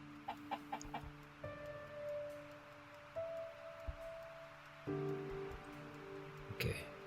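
Chickens clucking in the survival game Miscreated, short repeated clucks and a few drawn-out calls, moderately close over a steady background hum and soft rustling, with no talking.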